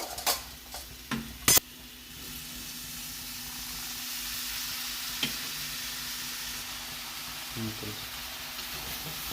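Soybean chunks are stirred into masala frying in a pan. A few sharp clanks of the spoon come first, then a low, even sizzle with occasional light scrapes.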